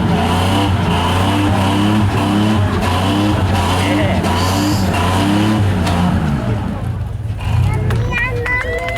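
A Chevrolet Tahoe roars through a burnout that strains its transmission, the engine revving hard in loud rhythmic surges up close while a crowd shouts and cheers around it.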